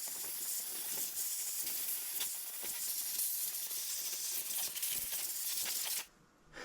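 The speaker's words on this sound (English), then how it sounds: "we're going to take some compressed air and we're going to blow out all around the plugs" Compressed air blasts around the spark plugs of a 2019 Hyundai Santa Fe XL 3.3L V6 engine: a loud, continuous rushing hiss for about six seconds that cuts off abruptly, leaving a quieter tail.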